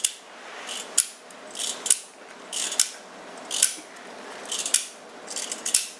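Plastic joints on a Master Grade 1/100 Zaku II Gunpla model with piping give sharp, dry clicks in irregular bursts, about a dozen over several seconds, close and fairly crisp with no talking.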